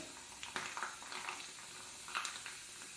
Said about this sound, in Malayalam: കണ്ടോ, നല്ലോണം പൊരിഞ്ഞ് വന്നിട്ടുണ്ട്.